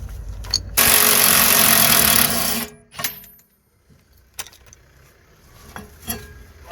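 The top bolt on the rear brake caliper of an Opel Astra is removed with a power tool. It gives a loud, steady, roughly two-second burst close by, then stops, followed by scattered metallic clanks and handling noises.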